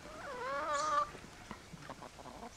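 Free-range chickens on a homestead make a drawn-out, rising vocal call, followed by softer scattered clucks, faint and fairly close.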